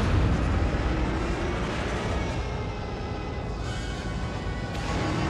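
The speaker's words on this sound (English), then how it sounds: "Homing missiles. Splendid." Homing missiles exploding in a Lego Star Wars game, a dense rumbling barrage of booms that rolls on continuously, loud and close, with no voices.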